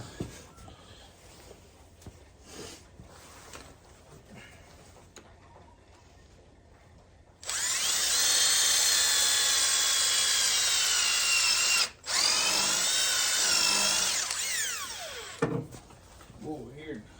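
A power drill pre-drills a hole in wood, a loud, steady whirring run of about eight seconds with a brief stop partway through, coming after quieter talk and shuffling nearby.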